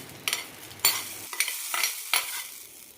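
A spoon stirs Kerala-style mango pickle after coconut oil tempered with mustard seeds and curry leaves goes in, making close wet scrapes and a few sharp strokes over a soft sizzle. No voices.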